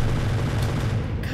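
A minigun fires in the Happy Wheels video game, producing a dense, continuous roar of rapid gunfire with no pause.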